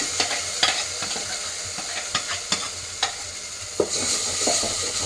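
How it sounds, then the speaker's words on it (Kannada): Ground poppy seed paste fries in ghee in a pan, a steady soft sizzle broken by occasional scraping stirs of a spoon, close and without talk. "ಒಂಚೂರು ಫ್ರೈ ಮಾಡ್ಕೊಳ್ಳೋಣ."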